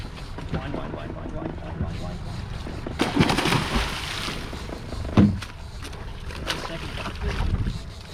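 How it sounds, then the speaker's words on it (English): Steady wind buffets the microphone on a fishing boat out after bluefin tuna off Southern California, a broad continuous rush with a few stronger gusts and a sharp knock partway through, voices murmuring faintly underneath. "Wind."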